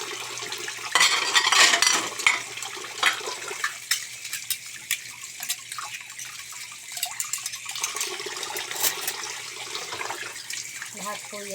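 Dishes are washed under running tap water, with a steady stream and splashes, plus clinks of plates and cutlery close by, and someone talks over it at times.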